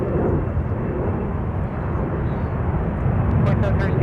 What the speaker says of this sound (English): United with a smooth touchdown on 30 left.